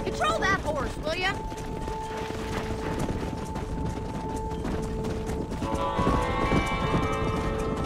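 Horse hooves clip-clop steadily while cattle are herded in the video game Red Dead Redemption on Xbox 360, with a whinny near the start, game voices talking over the scene and a brief mechanical clatter toward the end.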